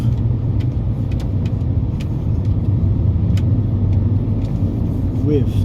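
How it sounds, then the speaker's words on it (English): Car cabin rumble while driving on bendy country roads, a steady low engine and road drone with occasional faint clicks, close and loud, with a person talking over it. "This is while I'm driving"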